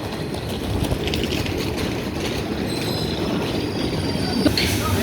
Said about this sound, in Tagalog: Yan ang ating train.